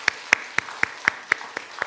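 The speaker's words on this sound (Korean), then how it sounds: "우리 주님께 영광의 박수를 한번 올려드립니다" Congregation at a Korean early-morning church service clapping in unison, eight sharp, evenly spaced claps in quick rhythm, close and crisp with no talk.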